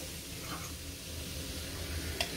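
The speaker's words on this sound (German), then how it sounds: "Meine Milch kommt jetzt in die Pfanne." Soft, steady sizzling of milk in a frying pan on the heat, quiet and continuous, with a faint tick near the end.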